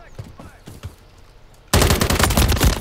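Rapid automatic gunfire in a beta build of a shooter video game bursts in suddenly and loudly after quieter scattered sounds, filling the rest of the moment as a dense continuous volley.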